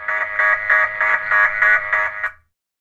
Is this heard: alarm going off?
yes